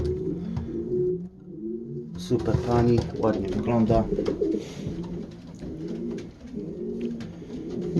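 Pigeons coo in low, repeated throaty phrases throughout, with a person speaking over them in the middle.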